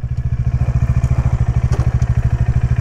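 A motorcycle engine runs nearby with a steady, fast, even thumping beat that carries through the whole stretch, and a few faint clicks sit above it.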